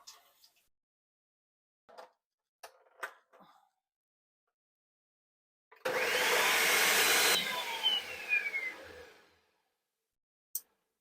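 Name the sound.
blender blending spices with tomato sauce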